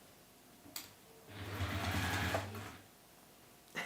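A sewing machine runs in one steady burst of about a second and a half, stitching round a modern handled bag, close and clear, with a short spoken phrase just before it starts.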